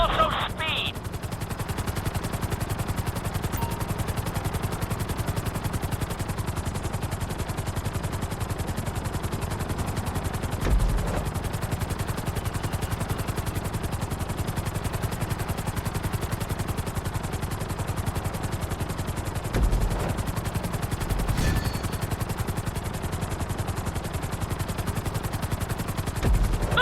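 A helicopter flies through a city in Grand Theft Auto 5, its rotor giving a continuous, dense, rapid chopping drone that holds steady throughout, with occasional brief clatters.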